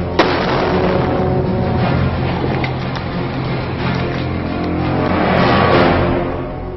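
A quake-damaged church bell tower is brought down by explosive demolition: one sharp blast, then a loud, sustained rumbling roar of collapse that swells again near the end, with no voices.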